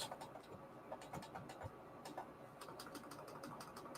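A sewing machine stitches a decorative scalloped edge on scrap paper for a booklet, with a faint, steady, rapid ticking and whirring that runs throughout.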